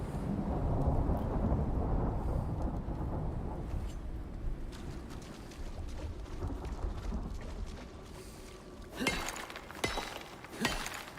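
Thunder rolls through a lightning storm in the survival game Icarus, a loud, continuous low rumble that slowly fades, followed by two sharp crackling strikes near the end.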